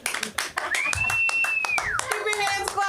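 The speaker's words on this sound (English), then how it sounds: "Keep your hands clapping for Jack Shaw, everybody" A comedy show audience at the LA School of Comedy claps in a rhythmic burst, with a rising whistle tone and voices talking over the clapping.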